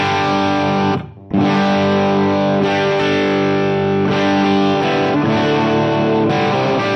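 An electric guitar played through a Line 6 Helix Wall of Marshalls patch with the gain on 8 gives loud, sustained distorted chords. A brief gap near the start is followed by continuous crunchy strumming.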